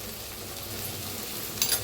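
Eggplant frying in a pan with turmeric, red chili powder and green chilies gives a constant gentle sizzle and hiss, with a short stirring clatter toward the end.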